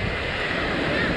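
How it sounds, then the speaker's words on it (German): Ocean waves washing onto a beach in Malaga, a steady broadband wash of surf blended with wind noise on the microphone, continuous and fairly close for a brief moment. "ich zeige euch die Wellen"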